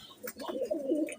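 Young pigeons at a breeding loft give a short, close cooing call, a soft low warble lasting about a second, clear and alone.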